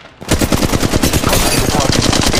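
Rapid automatic gunfire from Apex Legends Mobile rattles loud and close in a steady, unbroken burst lasting over two seconds, starting right after a short quiet moment.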